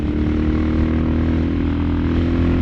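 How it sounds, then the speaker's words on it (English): A Suzuki DR650 motorcycle is ridden under acceleration, with a loud, continuous engine drone full of strong low harmonics. The tone holds fairly steady, close up, with no voices. "All right, let's accelerate."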